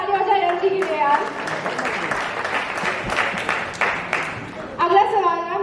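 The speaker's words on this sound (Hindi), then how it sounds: "बड़ी बार जोरदार ताली हो जाए एनर्जी के लिए यार" An audience at a celebration event for the Indian TV comedy Taarak Mehta Ka Oolta Chashma breaks into sustained loud applause, steady clapping from a crowd continuing for several seconds with a host's voice heard at the start and end.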